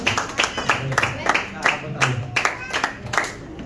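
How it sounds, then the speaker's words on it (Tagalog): A church congregation claps together in repeated bursts, loud and close, with irregular beats continuing across the moment and some voices mixed in. "Isang malakas na palakpak pa para sa ating Panginoon buhay."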